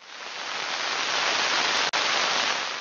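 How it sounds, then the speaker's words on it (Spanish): Synthesizer noise generator producing an artificial rain effect: a steady, dense hiss alone, loud and even throughout, with one very brief dropout near the end. "Acá el sintetizador tiene un generador de ruido, entonces pueden hacer efectos de viento, de lluvia."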